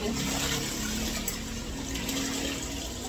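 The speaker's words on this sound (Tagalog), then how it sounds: "Ganda po pagbabanlaw at malakas po ang tubig" Strong tap water gushes steadily close by while washed dishes are rinsed, a continuous loud splashing stream with no voices.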